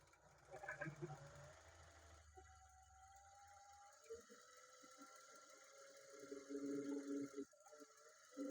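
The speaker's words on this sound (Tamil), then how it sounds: "இந்த பட்டியில் இந்த எட்ஜில் வந்து ஸ்டிச் போடணும்." A sewing machine stitches along the edge of a blouse, its faint buzzing run starting and stopping in short bursts beneath a woman's quiet instructional speech.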